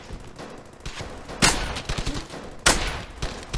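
Video game gunfire in Brothers in Arms: Hell's Highway cracks out in two sharp, loud bursts, mixed with scattered quieter shots and rattling clatter.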